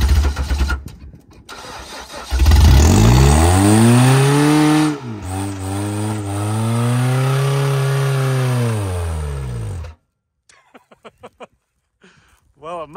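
An old Ford car engine cranks with rough sputters, catches and roars, then revs up and sweeps down and up in pitch for several seconds before cutting out, followed by faint clicks and knocks.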